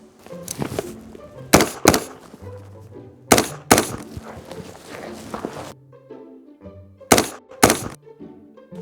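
An Inter Ordnance 9mm carbine is fired in a series of sharp, close shots, single and paired reports spaced irregularly, with softer thumps and handling noises between them.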